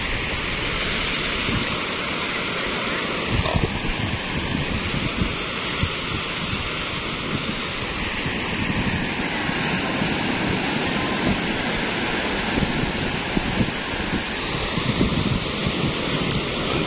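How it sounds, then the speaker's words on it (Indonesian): Waves rolling onto the sand at Pangandaran's east beach wash through steadily, forming a broad continuous roar with surges and some wind buffeting the microphone, no voices over it. "ini kondisi ombak benar-benar normal, indah banget ya"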